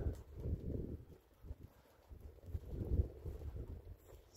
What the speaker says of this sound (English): the wind is from the northwest today. Just a little bit of a breeze